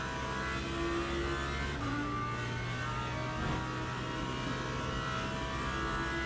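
A Ferrari race car engine drones steadily in Le Mans Ultimate during a GT World Series race at Le Mans, a sustained loud hum with a slight shift in pitch partway through and no talking.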